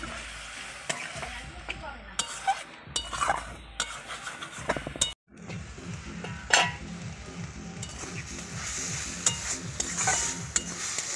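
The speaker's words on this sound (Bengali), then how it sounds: "আমি এবার জল দিয়ে দিচ্ছি একটু" Leafy potato greens fry with spices in a pan as water is added, bringing soft sizzling with scraping and stirring clatter from a utensil, a short pause midway, then renewed bubbling and stirring.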